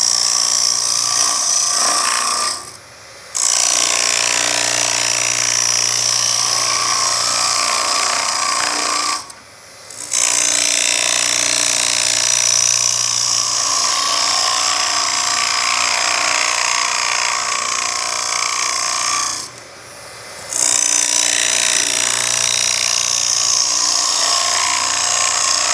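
A Robert Sorby multi-tip hollowing tool cuts into wood spinning on a lathe, shaping a squash form, giving a loud continuous rough grinding broken by three brief pauses.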